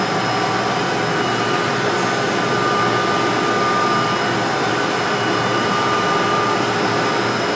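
A HAAS VF-2 vertical machining center runs a warm-up program with its spindle set at 2000 RPM, giving a steady, even whir and hum with faint high tones that holds at the same level throughout.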